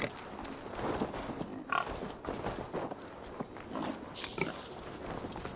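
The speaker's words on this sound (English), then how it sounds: "Is that a fucking pig?" A pig grunts and snuffles in the video game Assassin's Creed Valhalla in short, irregular bursts, with chewing-like smacking sounds mixed in, fairly close.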